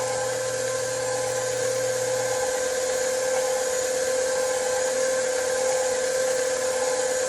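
An electric mixer whirs steadily while beating chocolate batter, producing a constant, close, even motor hum with no pauses and no talk.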